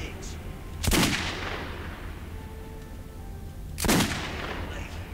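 Gunfire in the video game Metro 2033: two sharp, loud shots about three seconds apart, each with a booming tail, over a low background hum.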